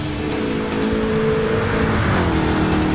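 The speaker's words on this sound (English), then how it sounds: "Looks like the Jaguar is going to take the pass." In a sim racing game, a Jaguar race car's engine drones loudly and steadily while it passes. The pitch climbs, then dips near the end, and no one talks.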